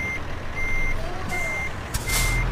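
Truck reversing alarm from a truck simulator game while backing up a rig: evenly spaced electronic beeps repeat over a low engine rumble, with a brief hiss near the end.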